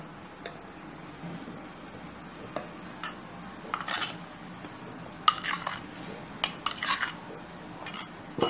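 A utensil stirs flour and milk dough in a bowl, giving scattered clinks and scraping taps against the bowl, irregular and close, with no talking.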